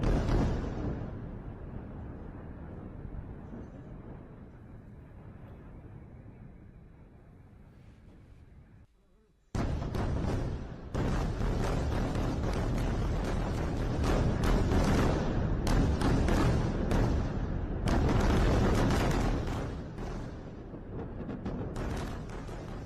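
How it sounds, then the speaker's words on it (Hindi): Missile strikes hit Beirut at night: a long, heavy, rumbling roar of explosions and blasts, first fading, then breaking into a sudden loud, sustained, crackling barrage after a brief gap. "आप ये तस्वीरें देखिए, धमाकों की आवाज सुनाई दे रही है"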